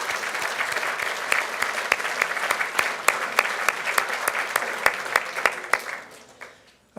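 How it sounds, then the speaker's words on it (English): A crowd applauds steadily with dense clapping for several seconds at a candidate forum in La Verne, then the applause fades out quickly near the end. "A round of applause for the United States of America."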